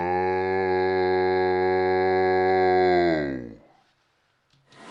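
A loud, steady motor drone from an inflatable jump house blower running indoors hums for several seconds, then winds down and stops, leaving near silence.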